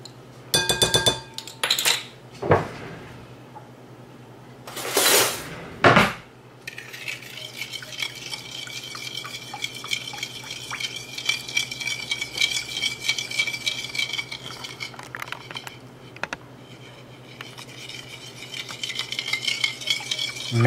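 Pizza dough ingredients, including olive oil, hot water and yeast, are stirred in a bowl: utensils clink and scrape against the bowl in loud early bursts, then settle into steady, rhythmic mixing.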